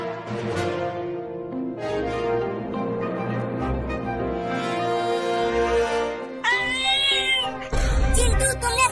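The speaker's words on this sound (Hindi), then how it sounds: "वो छोटी बिल्ली अभी अभी बोली" A cartoon kitten gives a few drawn-out, high meows over background music, fairly close and clear, with a short burst of other noise at the end.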